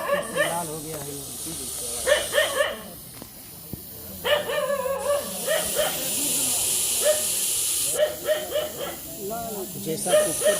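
A highly venomous snake loose inside an Indian police station hisses in several long, loud, whistling bursts, like a pressure cooker letting off steam, with people talking between and beneath the hisses.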